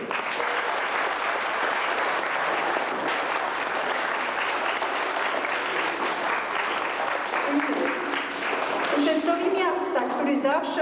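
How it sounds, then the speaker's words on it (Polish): Audience applause at a chess tournament in a school hall: a dense, steady wash of clapping from a crowd that holds evenly for about eleven seconds, with a few voices rising near the end. "Gorąco dziękuję i proszę o oklaski w tej chwili."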